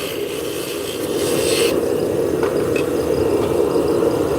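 A skew chisel cuts a thin wooden finial on a spinning lathe, giving a steady loud rasping scrape with a constant motor drone underneath, close and uninterrupted, no speech.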